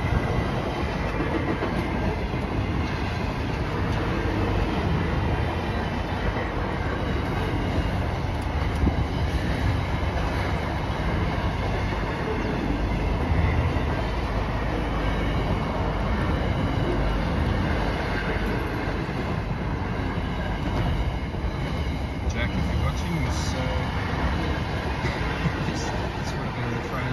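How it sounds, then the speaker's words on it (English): A very long train rolls past steadily and fairly close, its continuous rumble and rail noise holding for the whole stretch with faint clickety-clack and no break in the sound. "is the longest train I've ever seen in my life."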